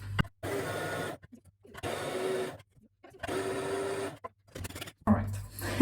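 Cumin is ground in a small electric grinder in bursts, with three roughly one-second whirring runs separated by short pauses and a clunk at the end.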